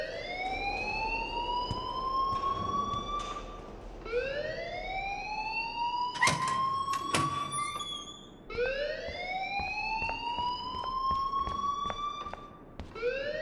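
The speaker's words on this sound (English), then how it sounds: "please turn off that alarm since that's your job" Alarm in the video game Life Is Strange, a loud rising siren wail repeating in long sweeping cycles, about three rises, with sharp clicks and beeps partway through.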